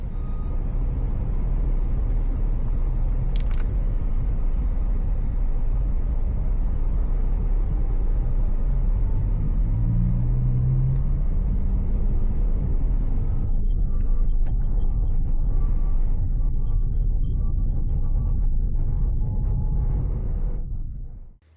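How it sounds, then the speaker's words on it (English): A VinFast VF5 electric car driving on the road produces a steady, loud low rumble of tyres and road noise from inside the cabin, holding evenly for about twenty seconds before fading out abruptly; no one talks. "Initial acceleration is actually fairly calm for an EV."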